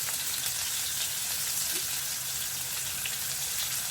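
Korma sauce being poured into a pan of meatballs and potatoes, a steady close sizzle and hiss of frying running throughout with faint stirring noises.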